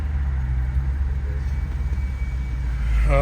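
A car idling and creeping in heavy traffic, a low steady engine rumble with road drone from nearby vehicles, no voices.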